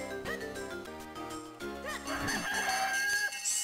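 Chicken crowing and clucking from Zelda: The Minish Cap, a few short game-style calls layered over busy background music, moderately loud with no talking.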